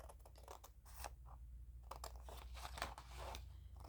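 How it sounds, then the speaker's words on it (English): Several crisp snips and crinkly cuts close by, irregular bursts of scissors slicing through paper over a low steady hum. "I'm just going to cut it with scissors."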